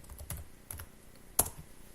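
Keys clatter on a computer keyboard as a command is typed into a Laravel PHP console: a few soft clustered taps, then one sharper, louder keystroke near the end, close and alone with no talk.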